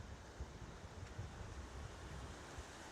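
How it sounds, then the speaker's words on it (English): Water pours steadily from an industrial outfall into the River Mersey, a continuous broad rushing wash mixed with outdoor wind noise and no talking. "Water outfall"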